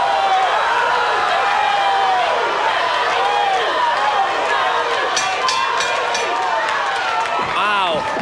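Crowd at a pro MMA bout, World Class Fight League 32, roaring and cheering near the end of a round: a dense, sustained wash of voices and shouts, with brief slaps or thuds and whistles toward the end.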